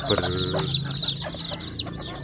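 A free-range village mother hen clucks close by near a box of newly hatched chicks. Her low, throaty clucks come in quick runs, with higher chirps from the chicks over them.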